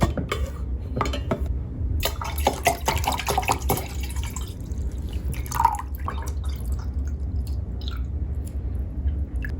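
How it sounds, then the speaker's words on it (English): Water runs and drips into a bottle being filled in a hotel room, with light clinks and handling noises, steady and close, no talk. "So, filling up my water, marking it"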